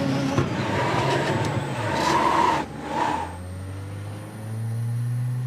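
A Ford Fiesta rallycross car engine in the iRacing game at Daytona, a close engine drone that revs and sags unevenly, drops away, then settles into a lower steady hum.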